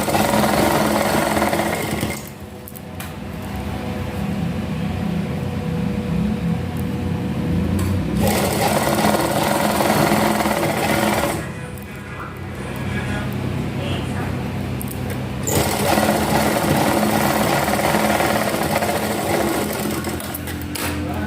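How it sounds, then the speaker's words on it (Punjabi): A sewing machine stitches lace trim onto an old suit, running in steady whirring bursts with short pauses between runs, fairly close and loud with no talk over it. "ਇਹਦੇ ਉੱਤੇ ਸਲਾਈ ਲਗਾ ਲਾਂਗੇ ਇਦਾਂ ਠੀਕ ਹੈ"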